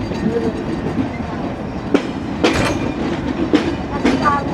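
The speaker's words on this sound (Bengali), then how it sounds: "নির্ধারিত সময় হতে 30 মিনিট বিলম্বে রূপসা এক্সপ্রেস ট্রেনটি প্রবেশ করছে" The red-and-green Rupsha Express rumbles into Jessore junction, its wheels clacking over rail joints in periodic loud bursts above a steady rolling roar, heard up close.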